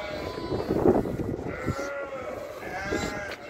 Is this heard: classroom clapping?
no